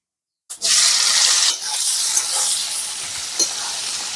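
Chopped onions hit hot oil in a pan for an egg curry, bursting into a loud, steady sizzle that settles slightly after a second and keeps crackling close by.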